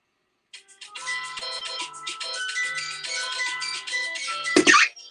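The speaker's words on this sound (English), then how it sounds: "It's actually my cell phone, believe it or not." A cell phone ringtone sounds during a live paranormal investigation inside a haunted-objects gallery: a bright electronic melody plays steadily for several seconds, close and clear, ending in a brief loud rustle as the phone is handled.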